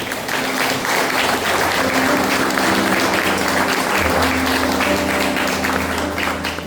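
A church congregation at a Sunday evening service applauds steadily, a dense wash of clapping that fills the room with a low sustained hum and faint tones underneath, with a few voices mixed in.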